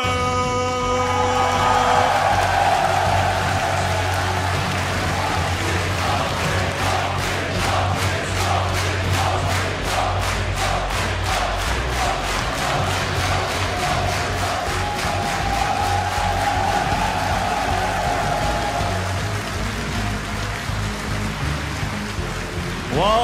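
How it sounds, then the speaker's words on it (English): A large crowd at a StarCraft 2 WCS Premier League semifinal cheers and roars continuously, with a rapid rhythmic clapping or stomping pulse running through the middle stretch before fading back to a steady din. "this crowd is definitely ready"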